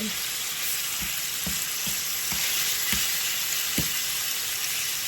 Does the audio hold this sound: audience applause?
no